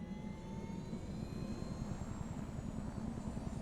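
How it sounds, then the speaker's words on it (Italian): Helicopter in Far Cry 4, a low steady rotor drone with faint rising engine whine, moving off into the distance and holding even in level throughout. "E c'è un elicottero, se ne sta andando?"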